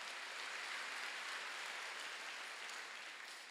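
A church congregation at a Wednesday worship service claps together in a dense, even roar of applause that holds steady for several seconds, then eases off slightly at the end.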